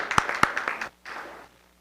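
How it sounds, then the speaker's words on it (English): A handful of sharp, separate hand claps at a school board meeting, a small sparse group clapping in the room, followed by a brief soft wash of noise that fades out. "so let's give him a virtual clap."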